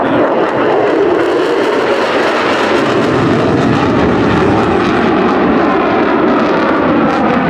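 An F-35 fighter with an F135 engine producing about 43,000 pounds of thrust climbs vertically during an airshow at Duxford, a loud, continuous broadband jet roar sustained throughout without talk.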